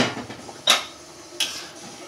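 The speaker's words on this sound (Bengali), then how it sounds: "দেখুন বন্ধুরা ঢাকনা খুলছি।" A metal lid comes off a pot of simmering fish curry with mixed vegetables in a home kitchen, giving two sharp clanks set apart by a short gap against a soft background hiss.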